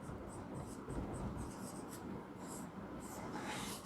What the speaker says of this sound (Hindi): और अब हम लोग यहाँ पे लिख रहे हैं